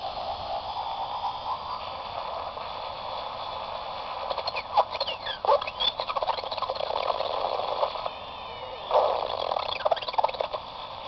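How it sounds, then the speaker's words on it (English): A Joule Thief circuit charging one AA battery from another gives off a steady high electronic whine with warbling tones and scattered crackly clicks, continuous at moderate level with no voices. "I just wanted to show you the face of a Joule Thief and what he looks like and what he sounds like"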